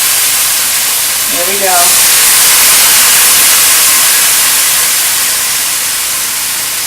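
Wine poured into a hot pan of beef sets off a loud, steady, broadband sizzle and steam hiss that swells and holds throughout, while a voice speaks briefly near the start.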